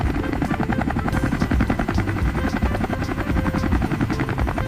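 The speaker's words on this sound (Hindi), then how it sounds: "हेलीकॉप्टर को हिंदी में हेलीकॉप्टर कहते हैं।" A helicopter flies nearby. Its rotor makes a loud, continuous, rapid thudding with a steady whine over it, heard alone throughout.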